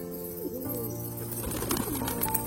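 Pigeons coo steadily and close by while pecking at corn, with soft bird calls and light background noise running through the short stretch.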